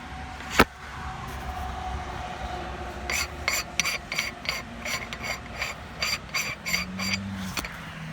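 A Mishimoto oil catch can for a 2014 Dodge Viper TA is spun open by hand, giving a close run of quick, evenly spaced ratcheting clicks that starts partway in and carries on for several seconds over a quiet background.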